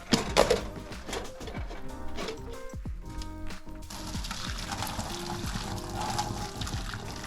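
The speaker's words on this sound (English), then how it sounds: "now we're gonna try to drain the rest of the water" Water from cooked beans pours and trickles out as the pot is drained, a steady splashing stream close by with a few brief clatters and knocks along the way.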